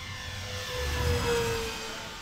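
Electric motors on a Dynam P-61 Black Widow 1500mm 4S RC warbird whine steadily and rise in pitch as the throttle is pushed up, a droning buzz heard from nearby.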